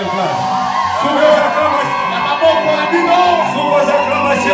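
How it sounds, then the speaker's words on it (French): Wedding guests cheer and whoop for the newly married couple at a religious ceremony, a loud crowd roar with shouts, alongside an announcer's voice. "Sous vos acclamations."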